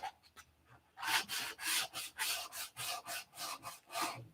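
Hand sanding over a white finish, with rapid rhythmic strokes, about a dozen rasping back-and-forth passes close up after a few faint starts, no talking.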